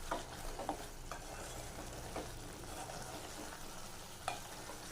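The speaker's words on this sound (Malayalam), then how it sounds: "അതും ചേർത്തൊന്ന് നന്നായിട്ട് ഇളക്കി കൊടുക്കാം." Eggplant curry with sambar powder being stirred in a hot pan, a constant sizzle with scraping strokes of the spoon every second or so, close and fairly quiet.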